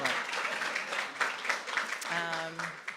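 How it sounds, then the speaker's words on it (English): Women at a dinner event in Harlem, New York clap in a short burst of applause, thick and moderately loud, while voices talk and cheer over it near the end. "give yourself a round of applause."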